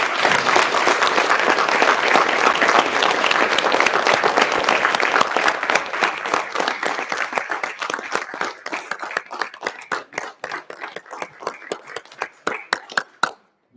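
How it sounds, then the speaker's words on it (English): A school-gym audience at a junior high Veterans Day program gives veterans a loud round of applause, dense and sustained at first, then thinning into scattered individual claps before stopping. "Can we give one more round of applause for our veterans"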